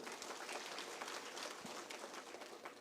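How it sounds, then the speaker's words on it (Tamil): Faint, continuous applause from a crowd honoring award recipients at a public event, even and sustained across the moment. "நம்முடைய பாராட்டுகளையும் வாழ்த்துக்களையும் கைத்தட்டல் மூலம் தெரிவித்துக் கொள்வோம்"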